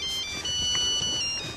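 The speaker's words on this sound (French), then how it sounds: "Je croyais que c'était un téléphone." A telephone ringtone trills briefly at moderate volume in a quiet room, an electronic warbling chirp with no one talking over it.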